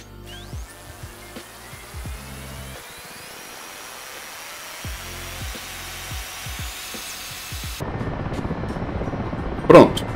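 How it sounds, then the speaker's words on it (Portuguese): An Mi-8 helicopter starting up in the DCS flight simulator: a rising turbine whine spools up over a steady rumble and spaced mechanical thumps, growing fuller and louder, with a sharp click near the end. "eu vou cronometrar quanto tempo ele demora para ligar o M8"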